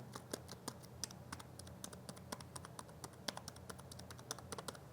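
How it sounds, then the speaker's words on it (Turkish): Soft, rapid typing on a quiet Monster Pusat Business Pro wireless keyboard, with muted clicks in an irregular rhythm, close by and fairly quiet, no voices. "Oldukça sessiz bir klavye."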